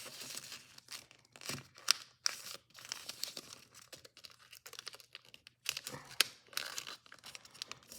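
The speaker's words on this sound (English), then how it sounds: "fold this over and crease it really well" Paper is folded and creased for an origami Tornado model, making a close run of crisp crinkles, rustles and sharp pressing swipes in irregular bursts with short pauses between.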